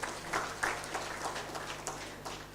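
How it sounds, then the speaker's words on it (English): An audience at a showcase and innovation pitching event gives a round of applause, a short burst of clapping that swells at the start then settles into scattered, uneven claps over a low steady hum. "Please let's have a resounding applause once again, please."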